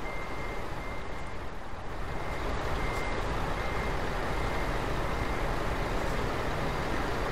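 Steady, insistent reversing beeps from a backing truck in Euro Truck Simulator 2, pulsing continuously over a constant low engine rumble with no talk.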